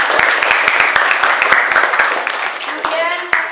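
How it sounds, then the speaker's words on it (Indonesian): Classroom applause from a group of students, a burst of scattered claps with overlapping voices that fades as the clapping thins out. "Kasih aplaus untuk."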